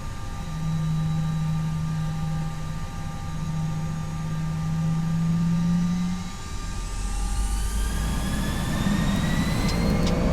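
The jet engines of a British Airways airliner departing Geneva spool up to takeoff power: a loud, steady engine roar with a low drone, then climbing whining tones rising toward the end.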